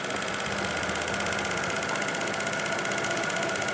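A wood lathe turning black walnut runs with a steady, loud mechanical whine and hum, holding even speed throughout with no talking.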